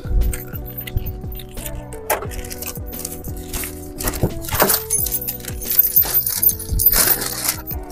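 Keys jingle and clink repeatedly up close, metallic rattles scattered throughout with some rustling and faint background noise.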